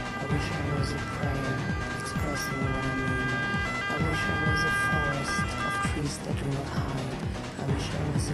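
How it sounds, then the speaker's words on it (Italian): A fire engine siren wails in the distance, a steady repeating tone at a car fire in a shopping centre parking lot, heard faintly beneath busy crowd and street noise. "Ed ecco che si sente lontananza, la sirena dei pompieri"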